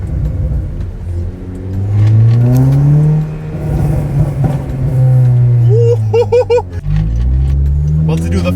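A 2014 Honda Civic Si with a newly installed downpipe exhaust revs up, its engine note rising and falling loudly in a sustained pull, then a brief drop and another climb.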